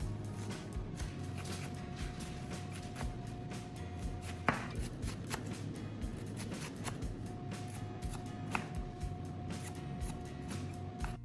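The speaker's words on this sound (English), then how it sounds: "Slice the leeks into small, even pieces so they'll dry evenly." Knife chopping leeks into small, even pieces on a board, a steady run of quick, crisp cuts continuing throughout at moderate level with a few sharper strikes, no voices.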